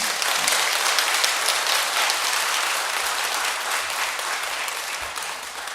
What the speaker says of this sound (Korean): 그 동주 원명 큰 스님과 주지 스님 두 분께 큰 박수 한번 올려볼까요?